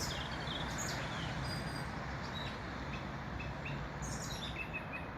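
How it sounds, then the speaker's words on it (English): Song thrush and robin singing on a January morning near a bypass, bright scattered phrases and chirps set against a constant loud roar of road traffic. "enjoy a moment of song thrush and robin."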